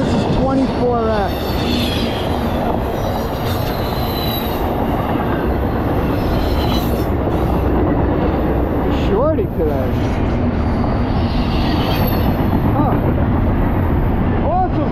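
A freight train led by four EMD locomotives, including an SD70MAC, rumbles past up close, with continuous rolling wheel noise, clattering, and repeated wheel squeals, while a person talks excitedly over it.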